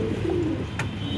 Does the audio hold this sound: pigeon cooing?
yes